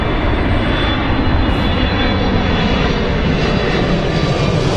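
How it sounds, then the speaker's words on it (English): A British Airways Boeing 777-300ER landing at Heathrow, its engines producing a loud, steady roar that stays close and continuous throughout, with no talk. "777-300ER, British Airways."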